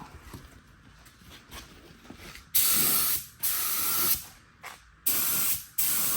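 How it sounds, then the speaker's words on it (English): An aerosol can spray-paints the balancer pulley of a 1989 S10 black, giving about five sharp, loud hissing bursts of close spray separated by short pauses, after a quieter lead-in. "paint this balancer pulley right here"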